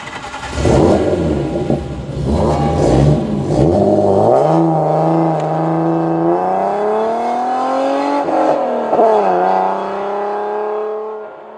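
Alfa Romeo SZ sports car driving and accelerating, its engine note climbing steadily through the gears, loud and close, with a brief dip and rise again near the end.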